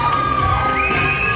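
Pageant audience at a plus-size beauty contest cheers and whoops in a brief, loud burst of mixed crowd shouting, with no clear applause rhythm standing out.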